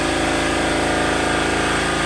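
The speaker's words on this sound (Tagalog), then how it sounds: "Pasensya na nga po pala sa ingay ng makina, mga mukay at mga kamukay, kasi welding generator po yung ginamit natin" A welding generator engine runs steadily and loudly close by, a constant mechanical drone with an even low pulsing and no talk over it.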